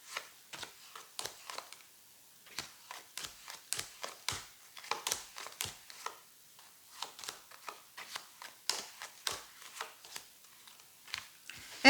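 Tarot cards being shuffled before the first card is drawn: a run of quick, crisp riffling flicks and soft slaps, close and fairly quiet, with no talking over them.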